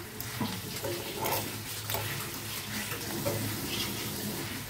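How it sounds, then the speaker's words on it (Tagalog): CDO Young Pork Tocino frying in its own fat, a soft, steady sizzle with faint pops and occasional stirring clicks, fairly quiet and continuous with no talking. "Malapit na siyang matapos lutuin ang CDO Young Pork Tocino"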